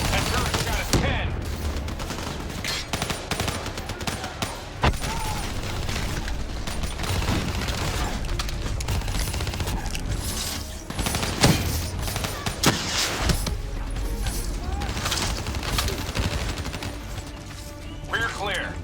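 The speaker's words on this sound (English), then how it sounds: "That turret's got us pinned." Sustained turret gunfire in the video game Call of Duty: Black Ops 3 roars in heavy bursts, punctuated by booms and impacts, with loud battle noise throughout and occasional voices beneath.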